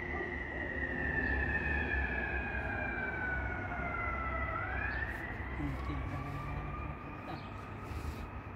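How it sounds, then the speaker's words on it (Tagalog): A fire truck's wailing siren sweeps up and down as it passes through Lourdes, loud and steady over rumbling traffic noise, its pitch dropping as the vehicle goes by. "Saan kaya pupunta yung fire truck na"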